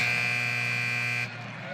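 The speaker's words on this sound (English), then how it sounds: "They'll put the shot clock back at 20 as the buzzer sounded" A basketball shot clock buzzer blares at a college men's game between Charleston and Wake Forest, a loud sustained electronic tone lasting over a second before cutting off into arena noise.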